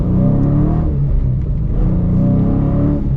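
A 2016 Dodge Challenger Scat Pack with a six-speed manual gives a loud, deep engine rumble that swells and eases in continuous revving from close by, with no voices.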